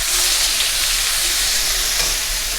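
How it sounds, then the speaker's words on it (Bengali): Sliced potatoes and eggplant frying in a wok, a loud steady sizzle with bright crackling hiss throughout, close up and alone with no talk. "এবার এই আলু বেগুনগুলোকে আমি কড়াইয়ের মধ্যে দিয়ে"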